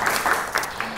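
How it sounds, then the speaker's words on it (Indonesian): Children clap together in a classroom, a short burst of applause from a group, heard up close with some voices mixed in. "Tepuk tangan dong untuk kita semua."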